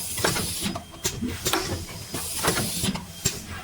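Fully automatic three-color screen printer printing yellow UV ink on cups, with repeated sharp pneumatic hisses and mechanical clacks in a steady working cycle over a low machine hum.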